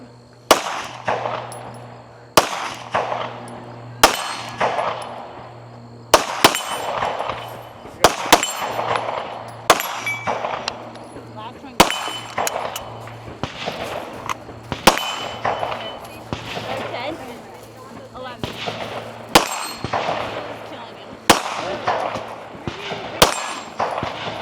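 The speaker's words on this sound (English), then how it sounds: "10 more shots with her pistol and then she will be done at the firing line." Pistol shots ring out at a regional shooting match stage, each followed by a bright metallic clang from steel targets, about a dozen sharp reports in an irregular but steady cadence over a low background hum.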